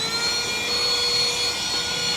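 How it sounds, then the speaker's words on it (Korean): A cordless vacuum cleaner runs steadily inside a Tesla Model Y, a continuous high-pitched motor whine with airy suction noise, close and loud without any talk. "예전에 구입했던 청소기 이거 아직도 잘 쓰고 있습니다."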